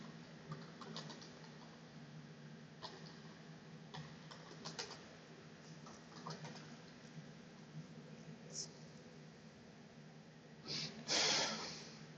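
Typing on a newly connected computer keyboard, a steady run of soft, quiet key taps with a brief louder burst near the end, no talk.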